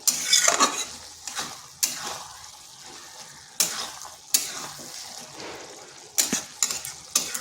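Cabbage is stirred in a frying pan for a vegetarian Bengali dish, with repeated scraping strokes of a spatula over a steady sizzle, several sharp clanks of utensil on metal standing out at irregular intervals.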